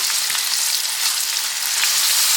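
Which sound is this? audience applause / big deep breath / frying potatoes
frying potatoes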